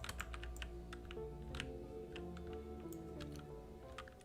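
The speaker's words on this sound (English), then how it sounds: "I must have accidentally pressed that key on my keyboard" Quick, light clicks of computer keyboard keys being pressed, an irregular scattered rhythm of taps over a low steady background hum, close and quiet with no voices.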